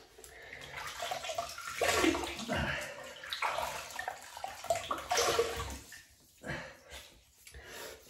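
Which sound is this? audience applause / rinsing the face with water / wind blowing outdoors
rinsing the face with water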